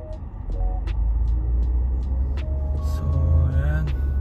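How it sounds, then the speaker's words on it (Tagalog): Heavy road traffic heard from inside a vehicle, with a constant low engine rumble, passing motors and occasional ticking clicks and brief hisses in a close, busy mix. "Traffic, grabe yung traffic."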